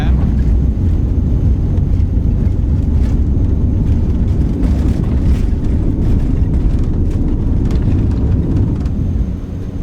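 A Black Square Cessna Caravan turboprop in Microsoft Flight Simulator 2024 roars steadily at full power through its takeoff from Victoria International, a loud, dense low rumble with wind-like noise that eases slightly at the end.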